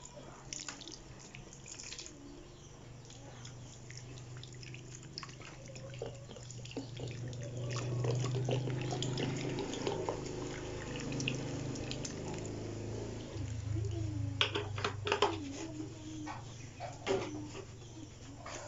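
Water poured from a container onto a large bougainvillea stem cutting planted in a big pot of soil, a steady pouring and dripping wash that swells in the middle and carries on throughout with birds faintly in the background.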